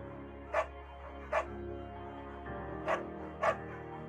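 Bucket the dog barks four times in the game Firewatch. The barks are short and fairly clear, spaced a second or more apart over a steady low ambient hum.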